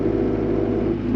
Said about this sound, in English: I don't know if you can hear the engine noise in the background